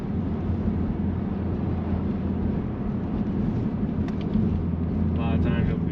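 A Ford Mustang GT with a 10-speed automatic accelerates through its gears, a steady engine drone with low harmonics heard from inside the car, plus brief higher whines near the end.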